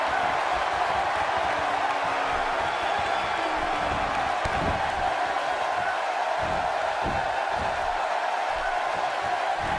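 A WWE arena crowd in Memphis roars in a sustained, distant wash of cheering and noise, with a few louder shouts and bursts rising over the constant din.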